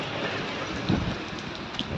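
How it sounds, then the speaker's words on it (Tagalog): Heavy rain pours steadily in the UAE amid strong wind, a dense, loud hiss throughout, with a low thunder rumble near the middle of the short stretch. "lakas pa rin ang ulan"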